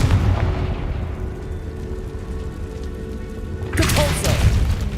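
In the Hogwarts Legacy video game, a Confringo blasting spell goes off as a sudden booming burst near the end, over a continuous loud rumble of game ambience.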